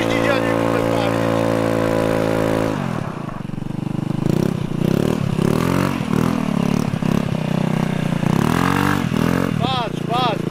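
A scooter fitted with an Akrapovič exhaust idles loudly and steadily, then revs in rough, rising bursts with clattering; people talk over it.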